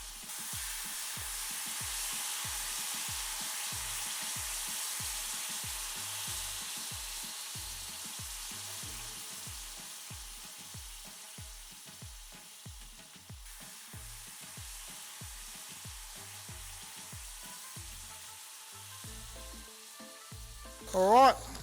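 Bacon and about a teaspoon of peppercorns fry in a pan, giving a steady, close sizzle that runs almost unchanged throughout, with a brief louder clatter right at the end.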